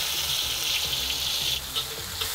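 Scallops frying in a hot oiled wok give off a steady, close hiss of sizzling with faint clinks, and no one speaks.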